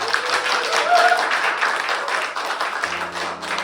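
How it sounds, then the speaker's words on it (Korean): Seminar audience clapping in self-congratulation, a dense burst of applause that stays loud for a few seconds and then thins out, with a faint tone entering near the end. "여러분을 위해 자축의 박수 한번 부탁드립니다."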